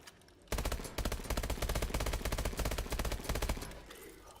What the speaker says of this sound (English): you're going to want to shoot this black bar under the cell until it snaps and falls off